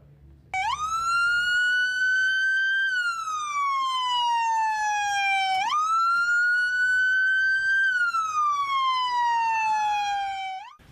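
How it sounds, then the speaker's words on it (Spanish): A new ambulance in Costa Rica sounds its siren loud and close, a wailing tone that sweeps slowly up and down through about two long cycles. "Estas son las nuevas ambulancias"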